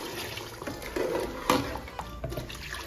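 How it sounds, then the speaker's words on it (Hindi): Water is poured from a glass into a pan of chicken nihari gravy, a soft splashing and trickling in irregular bursts, with a louder splash midway, heard close up. "तो अब मैं निहारी की ग्रेवी के लिए उसमें पानी डाल रही हूँ।"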